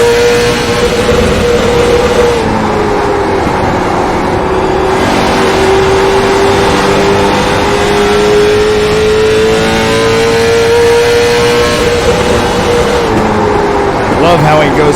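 Race car engines from the iRacing video game at USA Speedway in Lakeland, Florida, drone steadily with a sustained revving pitch that rises and falls over the whole stretch, with a commentator talking over them.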